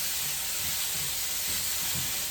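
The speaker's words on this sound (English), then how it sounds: "So again, we're gonna cook our chicken up." Chicken stir-frying in a very hot wok for shrimp and chicken fried rice gives a steady, close hiss and sizzle with soft clattering pulses throughout, no voices over it.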